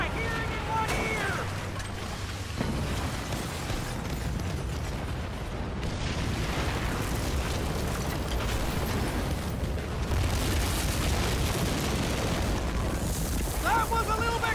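Big explosion in a war video game, a long roaring boom with crackling debris that fills the stretch and flares again near the middle, with game voices over the blast.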